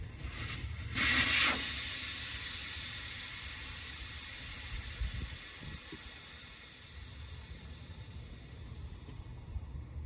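Air rushes out of a tire valve after the core is pulled with a metal valve-cap core-removal tool, a loud steady hiss that starts abruptly and slowly fades over several seconds, with no talking.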